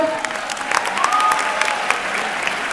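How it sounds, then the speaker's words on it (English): Live show audience claps and cheers throughout at a comedy show's opening, a dense, steady wash of applause with scattered whoops, moderately loud and continuous. "Can I have a big round of applause all the way from the back,"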